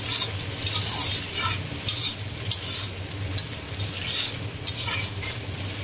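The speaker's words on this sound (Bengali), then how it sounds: "আবার আমরা টমেটো কুচি দিয়ে দেবো, এর মধ্যে টমেটো কুচি দিয়ে দিলাম।" Chopped tomato tossed into onions and chillies frying for a spicy mutton curry, giving a steady loud sizzle with repeated stirring scrapes of a spoon against the pan throughout.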